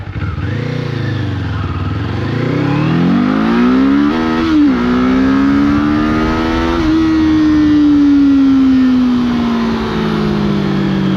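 A 2024 Kawasaki Eliminator motorcycle revs and accelerates up through the gears, engine pitch climbing steadily and then easing off, loud and close for the whole stretch with no talking.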